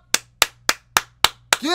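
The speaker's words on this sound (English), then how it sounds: "Give that kid a round of applause." Applause for a keyboard player: six sharp, evenly spaced claps, close and fairly loud, with a brief voice starting just after the last clap.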